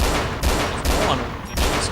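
Rapid volleys of close gunfire crack out in DayZ during a firefight near Golden River, with loud bursts of shots repeating across the moment.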